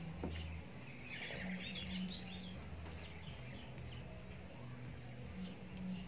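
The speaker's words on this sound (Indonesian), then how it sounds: "Suara burung kutilang mengganggu." Sooty-headed bulbul (kutilang) chirping in short bright phrases at moderate distance, over a steady outdoor background hum with a low drone throughout.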